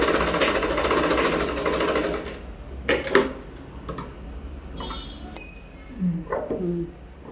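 A new sewing machine stitching a fold of fabric: a fast, steady mechanical whirring run that stops after a couple of seconds, followed by scattered clicks and light clatter as the material is adjusted.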